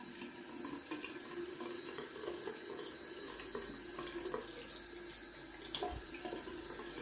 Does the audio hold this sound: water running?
yes